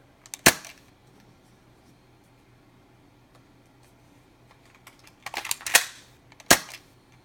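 A Nerf Reflex IX-1 blaster fires several sharp snapping shots, one early and a cluster of three near the end, loud and close with quiet gaps between.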